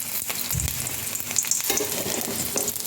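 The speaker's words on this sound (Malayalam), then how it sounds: "എണ്ണയും കടുകും ഉള്ളി ഇട്ട് വറുത്തെടുക്കുക" Mustard seeds and onion frying in oil make a steady, close sizzle with crackling pops and a brief stirring scrape, continuous throughout with no voices.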